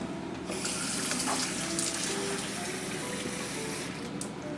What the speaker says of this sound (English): Now we'll add the water to the pan.